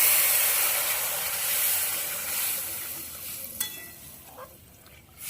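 Heated water poured onto fried rice in a pan while cooking basanti polao with ginger: a loud, close hiss and sizzle that slowly fades, with a few faint clinks near the end.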